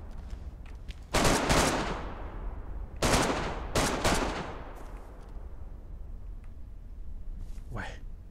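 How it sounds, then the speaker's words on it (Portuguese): SKS rifle shots ring out in the survival game DayZ, three loud cracks with long echoing tails spaced a second or two apart, then quieter distant reports as the reverberation fades. "Alguém atirou de SKS, velho."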